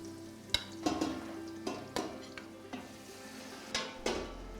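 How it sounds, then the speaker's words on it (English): Lamb sizzles quietly in ghee in a pan while a utensil scrapes and stirs, producing sharp knocks every second or so. "Some good sizzling going on in there."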